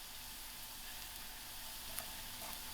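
Garlic frying with browned onions in a wok over high heat for egg fried rice: a steady, faint sizzle with a few light ticks and no talking.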